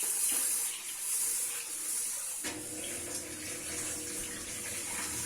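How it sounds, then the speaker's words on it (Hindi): Soaked green lentils (dal) are rubbed and washed under running tap water, a steady close splash and hiss that gets fuller and heavier partway through, with no voices. "दाल को जरूर अच्छी तरह धोया करें मसल मसल के"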